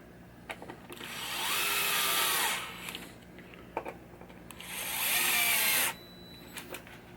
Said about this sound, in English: Let's put the screws down all the way.